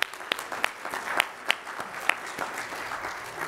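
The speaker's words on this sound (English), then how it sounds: "Let's give him a round of applause." Applause from a church congregation at a Sunday evening service, scattered claps with a few sharp louder hits over a steady wash of clapping, moderately faint and without talk.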